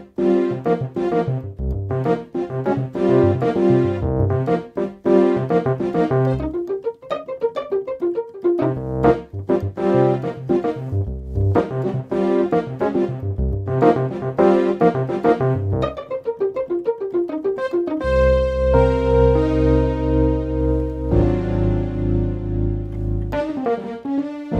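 A layered keyboard patch on the Sk Pro stacks all four allocations under the piano section, giving a full, sustained instrumental passage of chords and melodic runs that stays loud and continuous throughout, with a shift in texture near the end and no talking.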